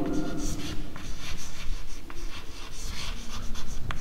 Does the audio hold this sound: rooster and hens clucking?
no